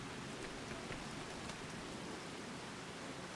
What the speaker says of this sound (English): Need to get out of this rain though.